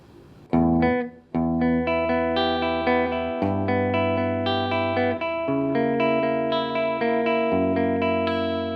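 Electric guitar chords ring through a room reverb pedal with its decay turned down, each strum sustaining cleanly with a short, tight room tail; several chord changes played alone, with no talking.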